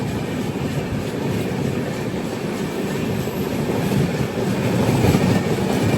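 The Sanghamitra Express between Bengaluru and Danapur, heard from the sleeper class, rumbles along with a steady clickety-clack of wheels over rail joints, a loud continuous roar that swells slightly near the end.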